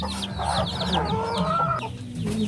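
A native hen clucks low and steadily among her eleven chicks, whose high peeps chirp repeatedly over her, close and clear with no talking.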